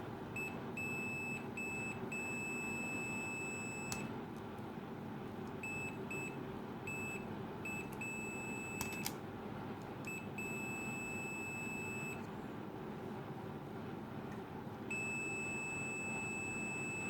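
A multimeter on continuity mode beeps while probing the terminals of a transformer still mounted on a battery charger circuit board, giving repeated high electronic tones in bursts of varying length over a low background hum.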